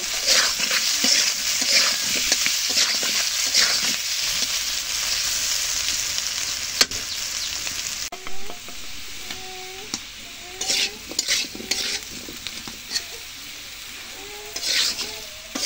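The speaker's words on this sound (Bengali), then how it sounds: "এখন আলুগুলো ভালো করে লাল লাল করে ভেজে নেব।" Steady sizzling of potatoes frying in hot oil in a kadai, with intermittent scraping and stirring sounds close by.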